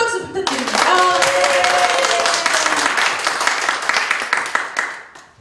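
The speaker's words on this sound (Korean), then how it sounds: "다시 한번 큰 박수 부탁드립니다." At a church charity concert, an audience breaks into loud, continuous clapping that swells right after a brief voice and holds strong before tapering off at the end.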